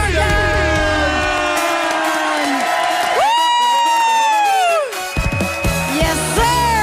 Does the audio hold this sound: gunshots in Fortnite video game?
no